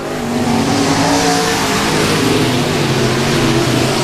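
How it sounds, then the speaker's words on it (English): Race cars at I-37 Speedway, a loud continuous roar of engines lapping the track with a dense, sustained rumble and no voices. "And Swinson scraping the front stretch wall as he works his way through the racetrack"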